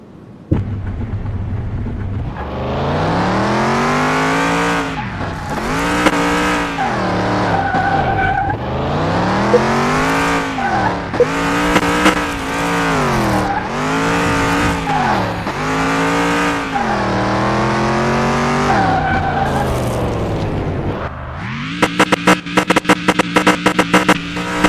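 Engine of a car in a video game, revving up and down in repeated rising and falling waves with tire skids, loud and continuous, ending in a rapid clattering burst, with no talking.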